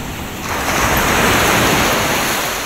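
Ocean waves at a seashore where a boat waits, a loud close wash of surf swelling after half a second and rolling steadily with wind noise, no voices.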